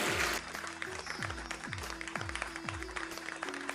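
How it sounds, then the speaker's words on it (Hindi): An audience at a Megh-Malhar folk singing event gives a loud, sustained round of clapping to welcome folk singer Dr. Shailesh Shrivastava, with a steady rhythmic low thumping beneath it. "जोरदार तालियों से स्वागत"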